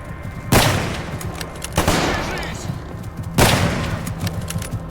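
Three heavy gunshots boom out at spaced intervals while shooting an enemy in STALKER GAMMA, each a loud close blast with a short reverberant tail.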